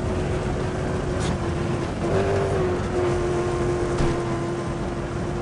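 A Ford V8 car engine in the racing game Need for Speed World holds a steady, continuous drone with a sustained tonal hum, moderately loud throughout and with no talk over it.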